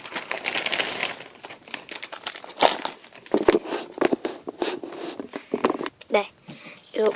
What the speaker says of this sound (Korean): 큰 지퍼백입니다